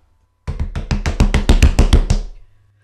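A landlord knocks at a door, about eight to ten firm, evenly spaced raps in a quick run, loud and close, with nothing else sounding around them.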